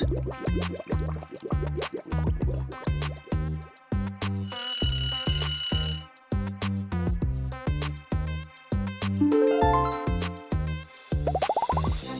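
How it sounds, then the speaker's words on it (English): Alarm clocks, classic and modern, ringing in a gift box choice challenge, a rapid repeating electronic beeping in a steady rhythm, loud and close, with a short bell-like burst partway through and rising tones near the end. "Time to wake up. Choose your alarm clock, classic or modern."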